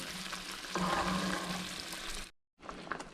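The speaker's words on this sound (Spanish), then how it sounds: "dejar en el fuego durante unos 3 a 5 minutos para que se guise bien y hierva toda nuestra salsa" Red salsa for chilaquiles bubbles and sizzles in a pan on the stove, a soft steady crackle that grows slightly busier before a brief cut to silence.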